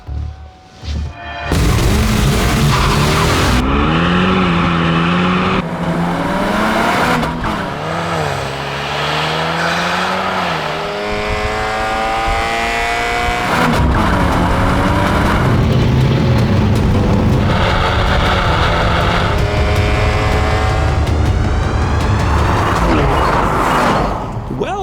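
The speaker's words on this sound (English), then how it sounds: "In the Mustang's drag race mode, the automatic slam shifts like a lunatic" A Ford Mustang with an automatic transmission in drag race mode and Mazda cars accelerate hard in a drag race, engines roaring loudly with repeated rising and falling pitch sweeps through gear changes. Someone talks over the noise throughout.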